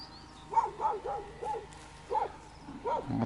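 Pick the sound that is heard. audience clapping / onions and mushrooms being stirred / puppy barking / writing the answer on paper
puppy barking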